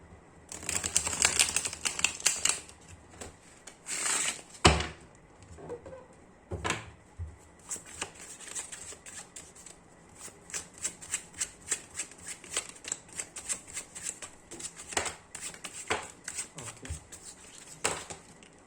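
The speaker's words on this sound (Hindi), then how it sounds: "पहले कर लेते हैं कार्ड को अच्छी तरीके से शफल।" Tarot cards are shuffled by hand nearby, giving a long run of crisp, rapid rustles and papery snaps with brief pauses between bursts.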